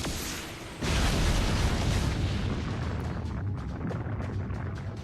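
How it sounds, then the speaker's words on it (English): A magical energy blast erupts in the Fate/Grand Order game, a sudden heavy boom that swells into a loud, rumbling roar and slowly fades over several seconds. "someone's firing magical energy blast at 6 o'clock"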